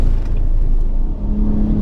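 A car at full throttle on the Circuit of the Americas track during a track day, a loud low engine roar held steady from inside the cabin with rumbling road noise, pitch rising slightly near the end.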